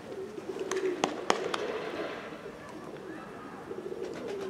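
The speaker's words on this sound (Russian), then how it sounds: "Начинаем тренировочку голубей." Pigeons at a spring training session in Kurakhovo, outdoors in gusty wind, give faint cooing and a few soft calls, with light clicks and flutter-like bursts scattered over a steady low ambient hum.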